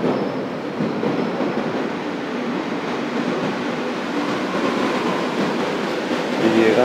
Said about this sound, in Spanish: Llegando uno de los trenes actuales, dirección Pinar de Chamartín.